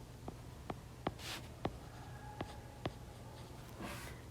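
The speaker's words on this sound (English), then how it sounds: "I'm just going to draw a long line" Pen marking and drawing a long line on a paper diagram, several sharp, close ticks spaced irregularly, with a brief scratchy stroke, quiet against a faint background hiss.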